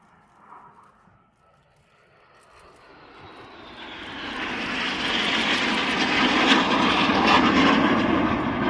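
Red Arrows jets at a seaside airshow in Southport performing an inverted synchro roll, the engine roar swelling from faint and distant to a loud, sustained rushing pass overhead.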